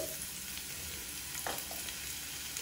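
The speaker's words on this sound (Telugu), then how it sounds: "ఆయిల్ వేడయ్యాక సన్నగా కట్ చేసి పెట్టుకున్న ఉల్లిపాయ ముక్కలు వేసుకోవాలి" Thinly sliced onions fry in a spoonful of hot oil in a small pan for garlic chutney. A continuous, even sizzling hiss plays alone at low level, with a brief stirring scrape partway through.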